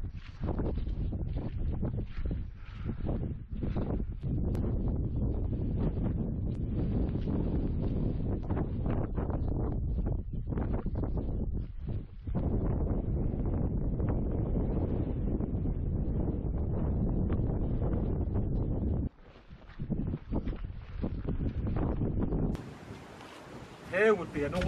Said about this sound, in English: I don't know if you picked that up because it's quite windy.